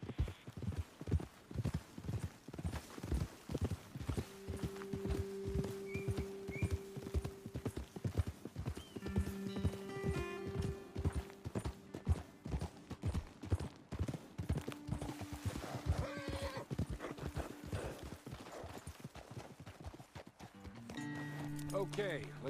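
Horses' hooves clip-clop in a steady walking rhythm in the Red Dead Redemption 2 video game, close and continuous for the whole stretch, while people talk over them and music plays softly.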